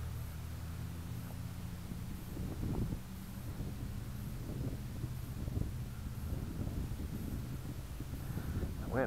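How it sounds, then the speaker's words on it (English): Wind gusts buffet the microphone outdoors at an RC flying field, a low, steady rumbling roar with irregular thumps, faint and unbroken, no talk. "The wind has decided to pick up"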